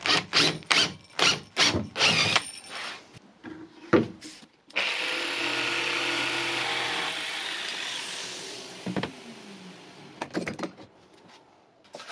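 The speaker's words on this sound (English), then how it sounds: "I'll drill out some of the waste in here so that the router doesn't have quite so much work to do" A power drill bores out waste wood ahead of routing a square hole. A series of sharp knocks and taps comes first, then a sustained loud drilling run, then quieter clunks and handling sounds.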